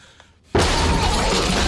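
A sudden loud crash of shattering, smashing debris bursts in after a quiet moment, as something breaks through in the horror film Antlers, then a sustained roar of breaking noise follows.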